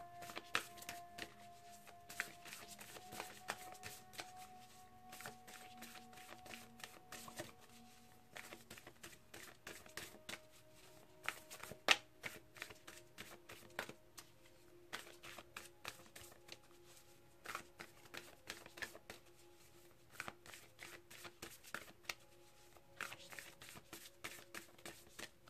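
Whispers of Love oracle cards being shuffled continuously, a steady soft riffling patter of card edges that lasts throughout, quiet and close, with no talking.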